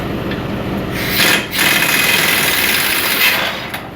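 A rusted bolt being worked loose on a 2001-2012 Ford Escape during a wheel bearing job, with a steady loud grinding, rasping mechanical drone from a tool, briefly dipping and resuming, close up.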